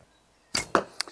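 An arrow loosed from a vintage Ben Pearson Superjet bow, shot with three fingers: a sharp snap of the string, a quick whoosh and a smack, then a faint tap as it lands, heard alone.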